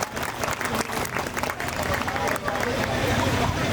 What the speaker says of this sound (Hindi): ताली बजा दो भाई सब लोग,